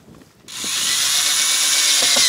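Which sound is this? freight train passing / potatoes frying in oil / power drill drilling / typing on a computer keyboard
power drill drilling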